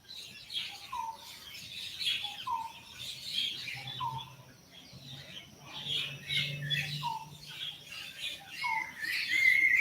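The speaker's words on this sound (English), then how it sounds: "Oh, my birds. My goodness, they're so loud." Pet birds squawk and chirp loudly in repeated bursts over a faint low background, with shrill calls recurring every second or two.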